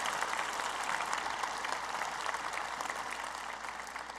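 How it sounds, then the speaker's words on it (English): Sustained applause from a large audience fills a university engineering faculty graduation ceremony, an even, dense roar of clapping hands with no talk over it. "I think they deserve a round of applause for that."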